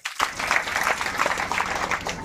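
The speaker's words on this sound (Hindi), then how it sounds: "एक बार जोरदार तालियां" A spiritual discourse audience bursts into loud applause after a question about women chanting the Gayatri mantra, a dense, steady roar of clapping that starts abruptly and carries on without talk.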